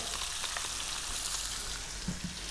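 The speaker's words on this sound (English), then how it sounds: "1 cup of onions are going to go in there. 1 tablespoon of garlic." A cup of onions and a tablespoon of garlic sizzle gently in a pan over medium heat for a lamb stew, a soft, even crackle heard close but quiet, with no talking.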